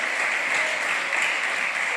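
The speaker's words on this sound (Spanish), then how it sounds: "Denle un aplauso al Señor." Church congregation applauding during a Spanish-language service, dense continuous clapping at steady volume throughout.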